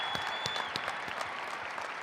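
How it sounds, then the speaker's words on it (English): Graduation ceremony audience at a high school applauding students for academic honors, a dense, steady clapping from a large crowd throughout. "Please applaud these students for their academic honors"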